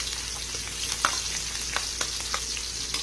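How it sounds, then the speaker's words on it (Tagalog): Onion sautéing in hot cooking oil gives a steady close sizzle, with a few sharp crackles and the clink of stirring scattered through it, and no voices. "Magigisa po tayo ng sibuyas."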